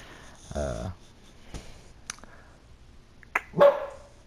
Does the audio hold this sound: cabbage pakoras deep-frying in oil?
no